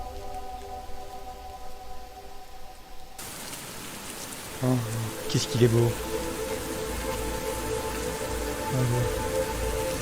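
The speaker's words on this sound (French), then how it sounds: "première fois que je vois une pluie comme ça" Heavy rain pours steadily onto surfaces with a dense, constant patter. Voices speak over the downpour and some tonal music sounds beneath it.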